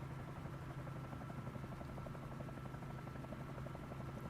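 A Bell 47J Ranger helicopter in a flight simulator throttles up, its engine and rotor giving a steady, droning hum with a strong low tone and a fast, even rotor chop, with no talk over it.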